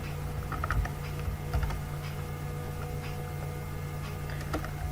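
Computer keyboard typing at a desk while entering text into an Excel spreadsheet, a steady patter of light key clicks with a few louder strokes, close and fairly quiet.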